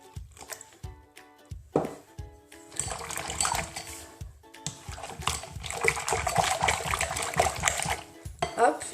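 Milk poured into crêpe batter while it is mixed: a steady liquid pour with splashing and stirring swells in the middle, preceded by scattered clicks, and a voice speaks briefly over it.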